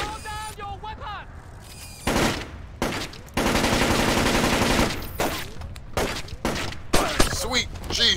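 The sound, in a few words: gunfire in the Splinter Cell Chaos Theory video game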